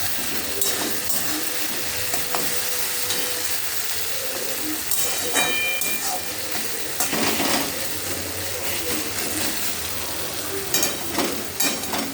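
Bread and potatoes fry in a pan with a dense, continuous sizzle and occasional stirring scrapes, close up and fairly loud throughout, with no one speaking.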